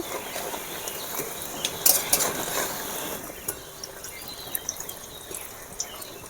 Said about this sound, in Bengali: কম কম করে ভাজবো। এবারে আমি উল্টিয়ে নেব।